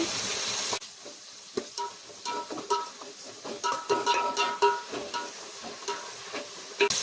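Biryani masala with curry leaves and cashews being stirred and fried for chicken biryani: a soft sizzle under repeated close scraping and clinking of a spoon against the pot, after an initial louder burst of frying.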